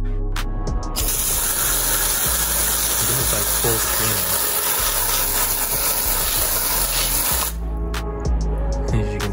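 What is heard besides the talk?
spraying water from a hose onto a car tire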